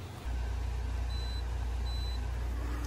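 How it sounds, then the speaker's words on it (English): Air conditioner compressor in a tiny home kicking on, with a sudden jump into a loud, steady low hum that holds continuously while a couple of faint high beeps sound. "All right, so the compressor kicked on"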